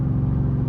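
Chevrolet Camaro SS pulling away hard from a green light, a deep, loud engine rumble with a steady throbbing low note, close and brief, with no voices.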